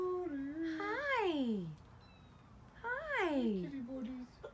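Two drawn-out house cat meows, each rising then falling in pitch, close and loud with a short quiet gap between them, indoors.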